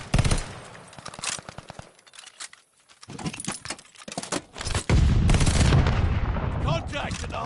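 Video game gunfire during a hardpoint match, with dense rapid automatic bursts and sharp shots, a brief lull, then heavy sustained firing, loud and close.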